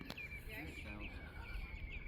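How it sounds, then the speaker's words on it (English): Faint birdsong at an estuary on a still evening with the tide coming in, thin repeated chirps over a soft, quiet background that may hold gentle water lapping. "All you can hear is birds and a little bit of lapping there."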